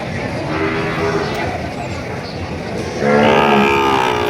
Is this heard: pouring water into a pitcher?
no